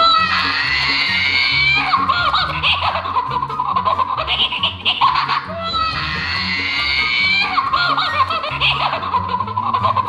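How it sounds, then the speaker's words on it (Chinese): A crying gorilla toy with its banana removed lets out loud, repeated electronic wailing screams in two long bursts, over a pulsing low toy-motor rhythm. "如果你把他手里面的香蕉给拿掉之后，他就会大喊大叫，大喊大叫。"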